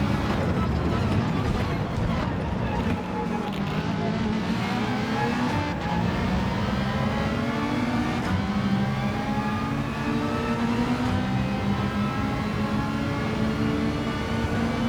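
A Ferrari 458 engine in the racing game Gran Turismo 7 drones and revs continuously throughout, its pitch rising and falling with gear changes, loud and close with no pauses.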